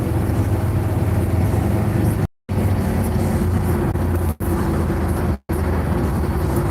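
Car driving westbound on Interstate 80 gives a loud, steady cabin drone of engine and road noise, broken by three brief dropouts.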